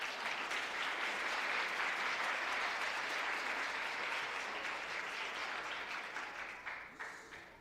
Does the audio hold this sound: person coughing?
no